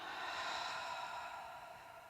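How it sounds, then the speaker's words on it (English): A single slow exhalation during a guided breathing exercise, a soft breathy sigh-like outflow of air, close and fairly quiet, with no talking. "breathing out."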